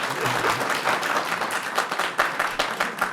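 An audience at a Talmud lecture event applauds, a steady patter of many hands clapping with sharper individual claps standing out near the end, moderately loud and without speech.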